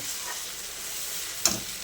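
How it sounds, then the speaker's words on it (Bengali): Mutton pieces hitting a pan of fried onions and tempered spices set up a steady, close hiss of sizzling, with one brief sharper crackle near the end. "এবার হবে খাসির মাংসটাকে দেব।"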